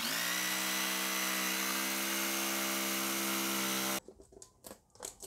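A high-pitched electric saw whines loudly and steadily, cutting for several seconds before stopping abruptly, followed by a few scattered clattering knocks.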